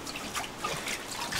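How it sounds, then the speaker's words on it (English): Water trickles and drips out of wet homemade paper pulp, a soft, close patter of irregular drops and small splashes, faint and steady with no talking. "You can tell though the water's coming out."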